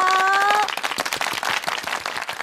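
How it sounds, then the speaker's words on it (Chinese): Scattered hand clapping rewards a children's team that has just finished an octopus-ball relay game, following a brief steady tone at the start. "帮他们拍拍手"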